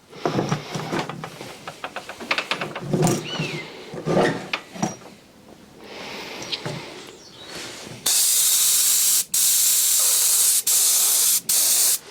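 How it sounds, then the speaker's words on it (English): Some clattering and handling noises, then a loud, steady spray hiss from an airbrush spraying grey paint for screenprinting, running in long bursts cut by a few brief pauses. "Right, ready to spray now."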